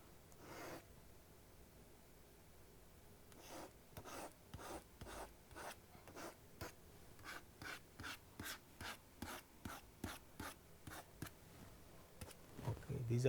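A diagram of lubricated surfaces being drawn by hand, with quick rhythmic scratching strokes of a pen or marker that speed into a steady run of short scrapes, close and faint, with no talking.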